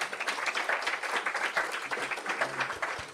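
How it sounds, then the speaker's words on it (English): An audience at a CFA Institute Research Challenge local finals claps in a fairly brief burst of applause. The clapping is moderately loud and even across the clip, with a few scattered louder claps. "they deserve another round of applause,"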